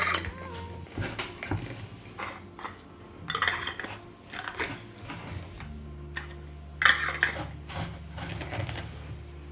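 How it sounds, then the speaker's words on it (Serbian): New, clean metal lids are fitted and closed onto glass jars, giving faint, scattered clinks and taps of metal against glass over a quiet background hum. "Zatim ću svaku teglu zatvoriti sa novim i čistim poklopcima."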